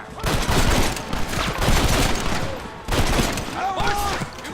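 Dense gunfire rattles through a Red Dead Redemption shootout, with rapid overlapping shots in continuous bursts close by and a shouted voice breaking through near the end.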